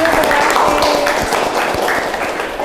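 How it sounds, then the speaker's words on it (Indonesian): Applause in a university classroom, a fairly loud, close patter of many hands clapping that continues steadily with some voices mixed in. "Kita kasih tepuk tangan untuk Raffi."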